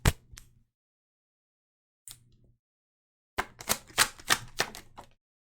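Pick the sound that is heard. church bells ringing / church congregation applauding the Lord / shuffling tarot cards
shuffling tarot cards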